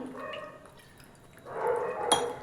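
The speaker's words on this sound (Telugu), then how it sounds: "ఇప్పుడు నేను ఇందులోకి లైట్గా వాటర్ యాడ్ చేస్తున్నాను" A short pour of water into a pan, a brief splashing gush after some faint clinks, close by and fairly quiet.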